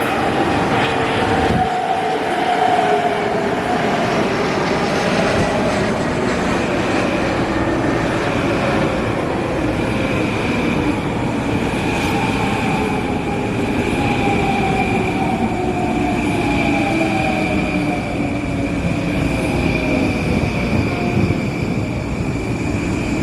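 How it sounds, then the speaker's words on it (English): A New York subway train of M9 cars runs nearby with a steady loud rumble, rising and falling motor whine, and rattling wheels on track throughout. "a train of M9s."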